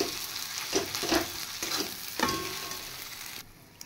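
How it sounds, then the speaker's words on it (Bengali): Dried fish mixed with boiled potatoes sizzling and frying in a wok, with a few brisk scraping stirs of a spatula over a steady crackle, close and fairly quiet. "এবার কড়াই দিয়ে সামান্য নাড়াচাড়া করে নামিয়ে দেব।"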